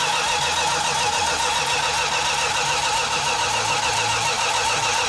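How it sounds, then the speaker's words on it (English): A '69 1/2 Super Bee engine, fed from a remote fuel tank, cranks over in a steady, continuous loud mechanical churn with an even pulsing rhythm throughout, close by. "when we initially tried to start cranking the engine over"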